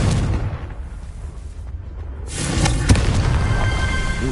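The Confringo explosive spell from the video game Hogwarts Legacy goes off as a heavy, rumbling boom that erupts after a quieter lead-in and lingers loudly.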